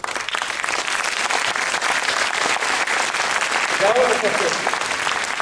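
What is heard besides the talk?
audience applause at a concert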